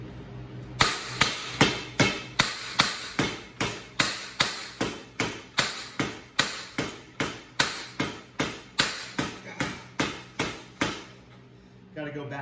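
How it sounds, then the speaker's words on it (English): A rubber mallet pounds a seized bicycle seat post stuck in the frame, about twenty-five sharp, evenly spaced blows in a steady rhythm, close and loud, stopping abruptly near the end. "you're just gonna start pounding on the seat"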